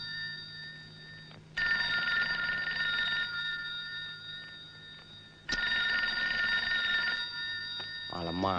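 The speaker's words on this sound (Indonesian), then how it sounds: "Malam-malam telepon." An old landline telephone rings at night in two long, loud electronic bursts separated by a pause, with a faint voice starting up right at the end.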